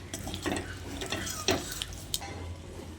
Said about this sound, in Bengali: তারপর খুব ভালো করে নেড়ে চেড়ে মিশিয়ে নিচ্ছি।